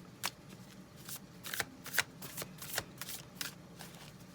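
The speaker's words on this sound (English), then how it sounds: "And now, shuffle again, yes or no?" A deck of tarot cards is shuffled, a quiet close series of soft riffling bursts and slaps at an irregular pace with no talk.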